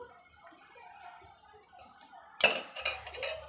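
A spoon scrapes and clinks against a pan while egg fried rice is mixed, short metallic knocks arriving in a cluster near the end after a quiet stretch.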